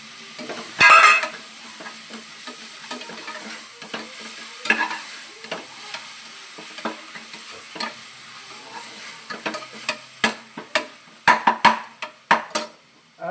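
Ginger-garlic paste and shallot paste fry in a pan with tomatoes, a steady sizzle broken by sharp clinks and scrapes of a spoon stirring against the metal, faster toward the end.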